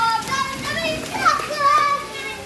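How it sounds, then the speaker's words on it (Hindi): Children's voices and playful shouts carry from outside at a moderate distance, a lively overlapping chatter with no single clear speaker. "बाहर बच्चों की आवाज़ें आ रही हैं"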